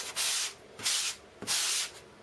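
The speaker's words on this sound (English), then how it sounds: "I put the plaster stuff on it. Okay, I'm sanding it." Three strokes of sanding against a hard wall surface, each a rough, hissing scrape lasting about half a second, close by with short pauses between.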